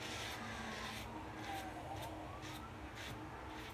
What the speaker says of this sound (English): there's the sirens off in the distance.